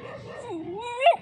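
A dog near a nilgai on a roadside in Gujarat gives a short whimpering yip that rises in pitch and ends in a sharp, close cry, brief and alone.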